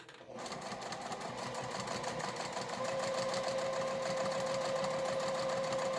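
Sewing machine stitching around vinyl, running steadily and loud throughout with a droning motor hum and rapid needle rhythm that settles into a steady higher whine partway through.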